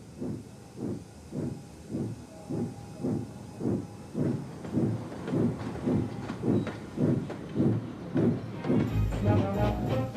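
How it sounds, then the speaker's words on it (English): A steam locomotive in a Trainz railway simulation pulls slowly away from a station, its chuffs loud, close and evenly spaced under a constant steam hiss, with a brief extra burst of steam near the end. "Gordon pulled slowly out of the station"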